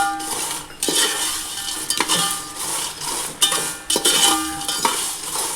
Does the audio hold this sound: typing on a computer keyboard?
no